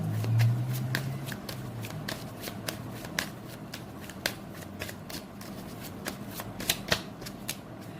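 Tarot cards shuffled by hand, a steady run of crisp riffling flicks and soft slaps close up, with faint low background hum.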